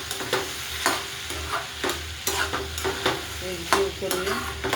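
Chopped tondli (ivy gourd) is stirred in an oiled pan, a spatula scraping and clacking in irregular strokes over a soft, steady sizzle, close and moderately quiet.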